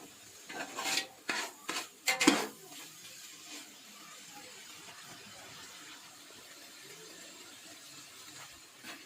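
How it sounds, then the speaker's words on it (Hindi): Whole cumin and black pepper stirred with a spoon into vegetable pulao in a pot, degi style: a few quick rasping scrapes close by, then a low, steady quiet. "जीरा और काली मिर्च शामिल कर देंगे साबुत, इस तरह मिक्स कर लेंगे इस पॉइंट पे"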